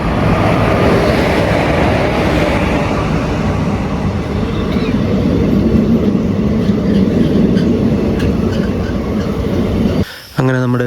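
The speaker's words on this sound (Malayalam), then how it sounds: "അങ്ങനെ നമ്മുടെ ട്രെയിൻ സ്പോട്ടിങ്ങിൻ്റെ ആദ്യത്തെ വണ്ടി ഇവിടെ ഏഴിമല എത്തിയിരിക്കുകയാണ്" Kozhikode Express hauled by a locomotive pulling into Ezhimala railway station, a loud continuous rumble of wheels and carriages rolling close by, ending with a sudden brief squeal and rattle.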